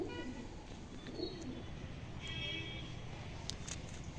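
A top-quality female Andra pigeon coos in a few soft, repeated calls, close by against a quiet background, with faint chirps from other birds.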